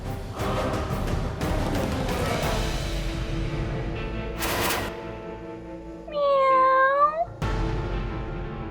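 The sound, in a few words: cat meowing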